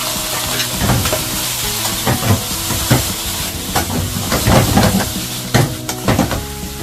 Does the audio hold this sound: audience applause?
no